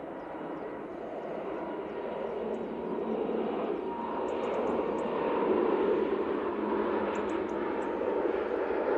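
A Lufthansa City Airbus A320neo takes off from Manchester Airport bound for Munich, its engines a broad, steady roar heard from a distance that slowly builds in loudness, with faint chatter in the background.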